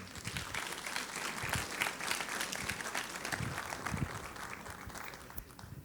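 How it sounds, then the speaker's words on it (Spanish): A church congregation at a Sunday service applauds as the apostle comes forward, a dense, fairly quiet roomful of clapping lasting about six seconds, with scattered louder claps and faint murmuring underneath. "vamos a recibir con un fuerte aplauso a nuestro apóstol"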